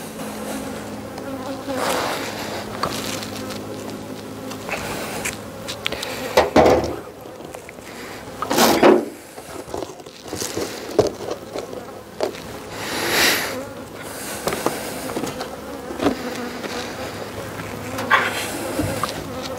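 A honeybee colony droning steadily inside an opened hive in February, the buzz rising and falling in loudness with a few sharp bursts as bees pass close.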